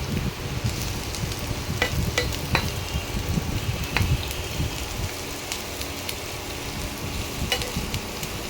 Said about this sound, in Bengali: এবারে ফ্রাই প্যানে পেঁয়াজ কুচি দিয়ে দিলাম।